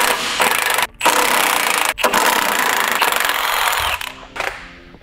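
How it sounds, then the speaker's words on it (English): An impact tool or air gun spins off the nuts holding a lower control arm on a Volkswagen MK5/MK6 during a coilover install, loud close rattling bursts broken by brief pauses, tapering off at the end. "Now we're going to remove the nuts holding on our lower control arm."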